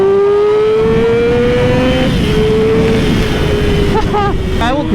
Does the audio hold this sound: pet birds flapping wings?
no